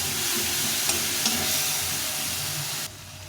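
Ground spices, including red chilli powder and Kashmiri chilli powder, fry in a pan for a cauliflower dish. A steady, close sizzle carries light stirring scrapes, then drops off sharply near the end.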